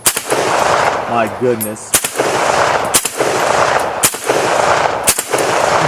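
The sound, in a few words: AK rifle firing 7.62x39 rounds rapidly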